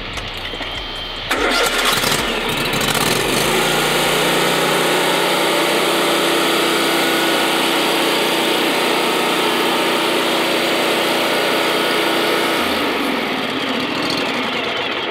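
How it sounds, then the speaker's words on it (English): An Exmark Vertex X-Series 72-inch zero-turn mower with a 39.5 hp ETC engine cranks briefly, fires up and settles into a loud, steady close-up roar, with no talk over it. "Can I ask you to start it up and crank that engine up"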